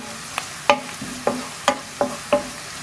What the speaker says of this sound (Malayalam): ഇഞ്ചിയുടെയും വെളുത്തുള്ളിയുടെയൊക്കെ ആ ഒരു പച്ചമണം മാറുന്നത് വരെ നമുക്കിതൊന്ന് വഴറ്റിയെടുക്കാം.